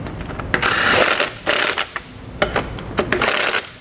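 Hand tools tightening 21 mm lug nuts on a trailer wheel give off a run of close mechanical ratcheting and clicking bursts, sharp and repeated in short spurts with brief pauses between them.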